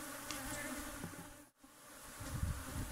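Honeybees buzzing steadily around a small home honey harvest, a continuous close drone with a brief dip in the middle, faint and without talk.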